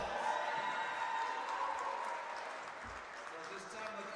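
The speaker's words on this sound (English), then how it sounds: "Let's give them a big round of applause." A crowd claps for the Ellenville Blue Devils girls basketball champions in a gym, sustained applause at moderate distance with an announcer's voice and crowd noise over it.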